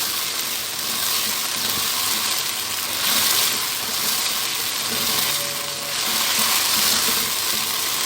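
Chicken pieces for karahi fry in a hot pan with a loud, steady sizzle and crackle, swelling slightly in waves as they are stirred over about eight seconds, with no talking.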